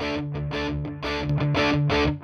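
Electric guitar played through a TC Electronic Spark Mini boost pedal with distortion, a loud, sustained, heavily driven chord pattern with crisp repeated strums and rich overtones.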